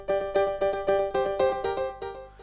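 Grand piano riff in Ableton drenched in echo delay, a house-style piano line of repeated chord stabs with trailing echoes blurring each hit into the next, loud and continuous with no talking.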